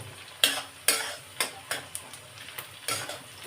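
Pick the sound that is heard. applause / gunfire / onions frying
onions frying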